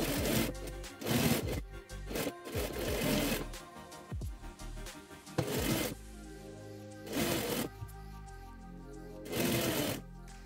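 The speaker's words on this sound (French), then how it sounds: "je vais coudre tout autour comme j'ai fait avec la partie des poches" Sewing machine stitching around the straps and panels of a child's backpack, running in several loud bursts with pauses between, alone without talk.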